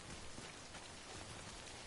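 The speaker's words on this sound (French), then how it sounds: "Il y a une putain de pluie là." Steady rain in the video game Death Stranding, a dense continuous hiss of drops falling on surfaces, loud and even throughout with no voices.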